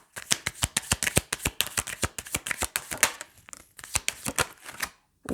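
Tarot cards are shuffled over and over in quick, snappy riffles, close and crisp, with brief pauses between bursts.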